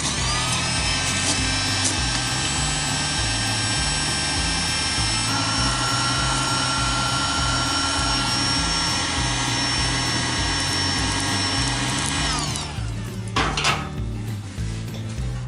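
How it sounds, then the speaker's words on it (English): An electric charcoal heater starter lighting charcoal in a Big Green Egg grill blows a loud, steady roaring whoosh with a low rumble throughout, cutting off and clattering near the end. "So we're gonna take the charcoal heater starter."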